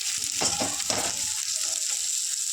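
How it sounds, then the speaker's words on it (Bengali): Chopped onion sizzling in a pan with mushroom and garlic, steady close frying hiss with a few scraping stirs early on. "মাশরুমটা ভালো করে একটু লাল লাল করে ভেজে নেব এখানে পেঁয়াজ কুচি নিয়েছি পেঁয়াজ কুচি দিয়ে দেবো"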